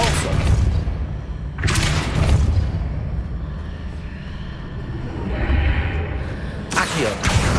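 Depulso spell blasts in Hogwarts Legacy land as heavy whooshing booms, with three big bursts spaced several seconds apart over a rumbling game background.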